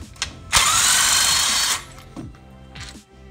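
A power tool whirs loudly for about a second while removing a 17mm bolt on a Honda Civic manual transmission, with clicks and clanks of the tool and metal before and after.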